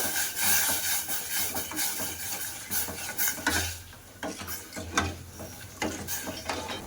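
Sugar melts with water in a pan into a sticky syrup while being stirred, giving repeated scraping, rubbing strokes against the pan at an uneven rhythm, close and moderately quiet.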